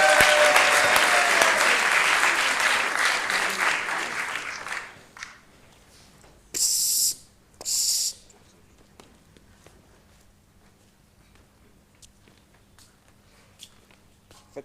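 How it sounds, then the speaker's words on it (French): Audience applause at an improv theatre festival in Paris, a dense burst of clapping that fades over about five seconds, followed by quieter room sound with two short bright noises. "On les applaudit s'il vous plaît."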